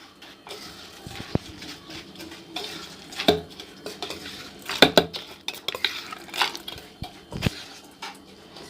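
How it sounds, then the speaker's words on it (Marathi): Utensils clink and scrape in a bowl as crunchy farsan is gently stirred into a bhel mixture with khari boondi, producing close, intermittent tapping and rustling. "आता यामध्ये जाणार आहे आपले फरसाण, हळूवार हलवून घ्यायचे"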